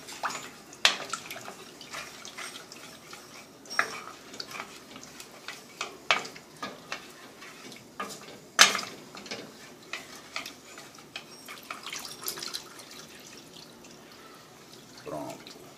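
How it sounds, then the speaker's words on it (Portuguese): Milk being poured into a butter and flour roux and stirred for a cheese sauce for macaroni: soft liquid sloshing with irregular clicks and taps of a utensil against the pot, steady and close, no talking. "A gente coloca o leite, dá uma mexida, deixa incorporar, você vai ver que vai formando um creme."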